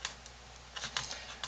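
Laptop keyboard being pried free of its retaining tabs during disassembly, a few faint sharp plastic clicks and taps spaced irregularly in a quiet room.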